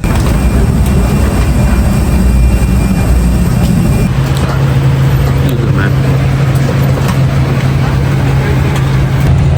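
Steady, loud jet engine roar inside a half-empty passenger plane at night, a continuous broadband rumble with a low hum that shifts pitch partway through.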